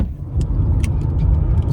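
A Chevrolet Monte Carlo drives off, its steady low engine rumble and tyre noise loud and close, with a few faint higher clicks over the top.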